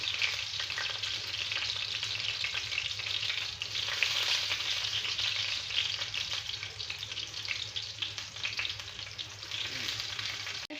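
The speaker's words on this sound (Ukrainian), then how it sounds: "Це в нас смажиться е, чебурек із грибами" Oil sizzles and crackles continuously as mushroom-filled chebureks fry in a pan, a steady close hiss with small pops throughout.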